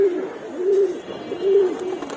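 Pigeons in a loft give soft, rhythmic coos, a low rolling call repeated about three times in close succession against a faint background hum.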